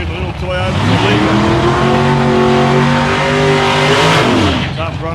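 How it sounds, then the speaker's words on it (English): A little Toyota Celica race car in qualifying at South Coast Raceway roars past, its engine note rising and falling as it revs through gears, loud and close, with tire noise in the mix. "Over here, the little Toyota Celica."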